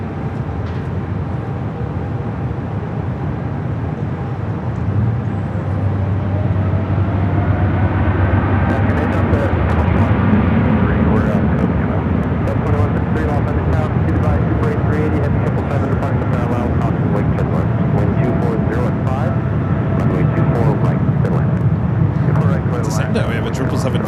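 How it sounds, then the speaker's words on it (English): A Cathay Pacific Boeing 777-300ER rolls down runway 24L at LAX for a Hong Kong departure, a steady loud jet roar filling the whole stretch, building slightly midway with some background chatter mixed in. "Cathay, the 777-300ER heading back to Hong Kong. Now rolling down the 24 left"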